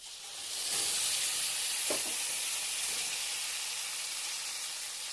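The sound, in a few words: spice paste added to fried potatoes in the pan, sizzling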